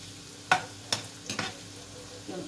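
Sausages fry in a pan while a utensil stirs them, giving a few sharp scraping strokes over a low steady sizzle, close and alone.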